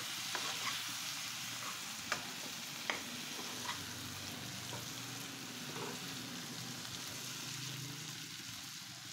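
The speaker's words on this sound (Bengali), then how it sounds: "আমি 2 মিনিট বেগুনটা ভেজে নেব সুন্দর মতো।" Eggplant frying in a pan for a greens-and-eggplant dish, a steady close sizzle with occasional light clicks and stirring, no talk.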